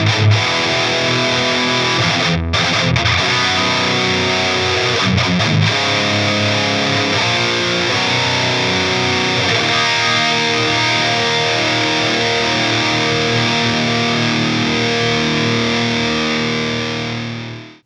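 Electric guitar through a Mesa Boogie 90s Dual Rectifier amp with a heavy, distorted metal tone, sustained chords ringing loudly with brief palm-muted stops early on, then fading at the end.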